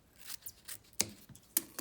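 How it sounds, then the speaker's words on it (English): Scissors snip off leftover ribbon while making a Slim Sling baby carrier, two or three crisp close cuts with quiet handling between them and no talking. "We have a little extra ribbon that we are going to go ahead and cut off."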